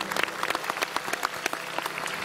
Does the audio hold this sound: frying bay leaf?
no